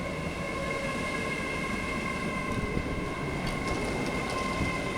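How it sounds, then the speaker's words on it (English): A Class 807 electric train on the Liverpool Lime Street to London Euston service sounds as a steady, loud rumble with high whine tones throughout, the wheels clattering faintly near the end, with no talk. "It's a 5:25 to London Euston from Liverpool Lime Street."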